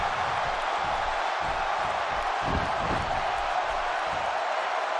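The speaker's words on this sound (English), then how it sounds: "by the sound of this crowd, I think they're getting what they wanted" Crowd noise in the WWE 2K17 wrestling video game, a match with The Rock, The Miz and Bret Hart, forms a continuous, dense roar that fills the whole stretch without letting up.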